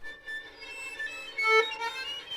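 Violin played with poor finger placement, giving thin, whistly harmonic-like tones in a short, faint, wavering phrase without talk.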